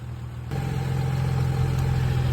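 Infiniti M35x engine revving up with an exhaust heat shield newly clamped down by a hose clamp, a steady mid-pitched engine note that steps up in loudness after half a second and holds without rattle.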